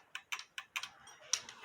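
A cuckoo clock's escapement ticks close up on a repair bench, a quick run of crisp, light metallic ticks in an uneven rhythm, each with a short double click, with no speech.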